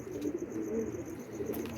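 Low, soft racing pigeon cooing rolls on steadily throughout, a close murmuring coo with faint background hiss.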